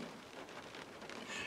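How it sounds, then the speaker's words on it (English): Rain falls steadily outdoors, a faint, even hiss of drops on surfaces with no voices and no distinct individual impacts. "Yeah, it's still raining."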